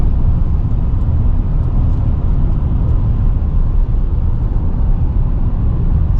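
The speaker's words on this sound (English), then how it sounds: "You can hear the turbo a lot. Kind of sounds like an EcoBoost, I guess." A 2023 Chevrolet Silverado with a rebuilt 2.7L turbo four-cylinder drives along, giving a loud, steady, low rumble of engine and road noise without a break.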